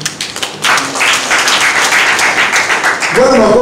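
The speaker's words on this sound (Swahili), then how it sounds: "Bwana makofi machache." Crowd applause at a political party rally, a dense clapping roar that swells after a few scattered claps and holds steady, with a voice speaking over it near the end.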